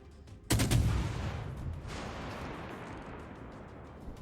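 Ship guns firing in World of Warships: Legends, a single heavy booming salvo that hits hard and then rolls off in a long rumbling decay under steady background noise, with no speech.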